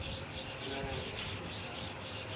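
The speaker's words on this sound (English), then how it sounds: "trying to become a master in sharpening of the clipper blade using super hard manual sharpening stone" A barber's clipper blade is rubbed on a super hard manual sharpening stone, giving a steady, close, continuous scraping grind with a faint rhythmic back-and-forth pulse and no talking.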